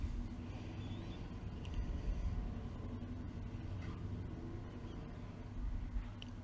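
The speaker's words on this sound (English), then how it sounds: "somebody's deciding to rev their motorbike" A motorbike revs outside an open window on a hot day, a fairly faint, steady low engine rumble that rises slightly in places and runs throughout.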